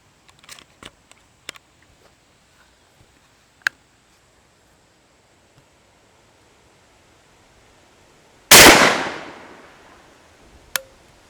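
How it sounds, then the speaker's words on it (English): One loud, sharp shotgun blast from a TriStar Viper G2 firing a Remington rifled .410 slug, with a quick decaying tail, preceded by faint clicks and handling noises and followed by a small click. "We'll shoot 5 of them over it and see what kind of numbers we get"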